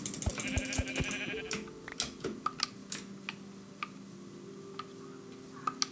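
Sheep bleat in the game Minecraft, a loud drawn-out bleat at the start followed by scattered sharp clicks and ticks from the game, with no voices.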